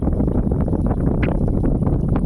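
Steady low wind rumble buffeting the microphone throughout, a continuous blustery roar with no clear voices.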